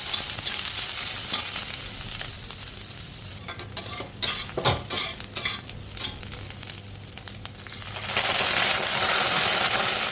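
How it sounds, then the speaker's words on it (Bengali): Chopped onion and green chilli fry in mustard oil with cumin in a pan, a steady sizzle broken by the clatter of a spoon stirring and scraping the pan midway. "লাল করে একটু ভাজা ভাজা করে নিতে হবে।"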